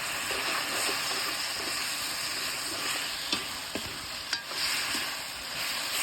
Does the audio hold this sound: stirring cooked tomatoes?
yes